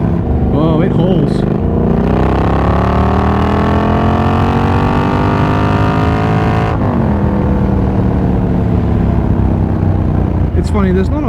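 A Triumph Scrambler 1200 XE motorcycle engine pulls hard under acceleration, its pitch climbing steadily before a gear change, loud and close throughout.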